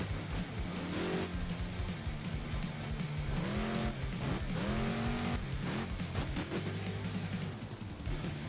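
Monster truck in BeamNG.drive, engine revving hard with repeated rising and falling pitch sweeps, tires squealing and skidding, loud and close with no talk.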